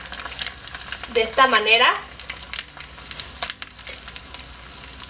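An egg slides into a hot pan for a sausage breakfast and fries with a steady crackling sizzle, and a voice speaks briefly over it partway through.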